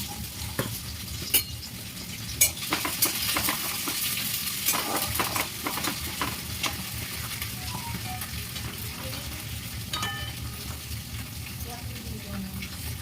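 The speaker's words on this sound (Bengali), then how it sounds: "ফুলকপি আর বিনসটা একসাথে ভেজে নেব।" Cauliflower and beans frying together in a pan, a steady close sizzle with scattered utensil clinks and scrapes throughout, no talk over it.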